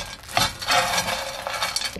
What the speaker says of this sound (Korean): 이렇게 후라이팬이나 이런 냄비에다가 볶아주겠습니다.